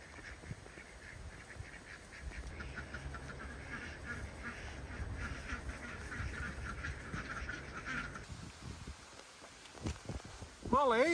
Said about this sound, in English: The ducks and the geese are always happy when they're free ranging.